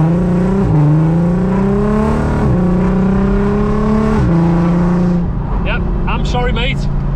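A VW Passat R36 pulls out, its loud exhaust droning and rising through repeated gear changes, close and steady for most of the stretch before a brief lull with faint background noise.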